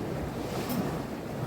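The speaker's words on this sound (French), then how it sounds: "Il y a 25 nœuds de vent là et on va essayer de rentrer tranquillement là." Strong wind of around 25 knots roars across a sailboat heading home under genoa, with waves rushing and splashing against the hull, and gusty buffeting on the microphone throughout; no voices.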